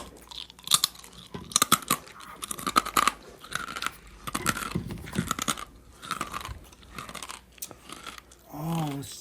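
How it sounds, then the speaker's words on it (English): Close, crisp crunching and chewing come in irregular bursts of bites during a pretend mukbang with toy kitchen food, quiet between chews, with a brief vocal sound at the end. "I'm gonna eat now"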